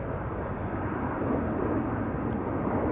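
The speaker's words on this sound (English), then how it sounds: "Dreamliner 10 to Nairobi, if I'm not mistaken, just took off" A Boeing 787 Dreamliner taking off at Amsterdam Schiphol Airport produces a steady, loud broadband jet roar that holds evenly throughout without pause, no voices present.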